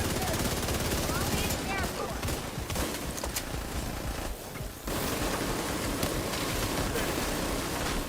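Rapid gunfire crackles through a shooter video game match, with dense bursts of automatic shots continuing almost without pause and a brief lull midway.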